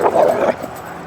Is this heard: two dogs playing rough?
yes